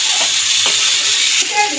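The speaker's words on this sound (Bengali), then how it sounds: "কিছুক্ষণ ধরে কষাবো এটাকে।" Masala with kalbos fish, potato and cauliflower sautéing and being stirred in hot oil in a pan for a Bengali fish curry, giving a steady close sizzle with a few soft scrapes of the spoon.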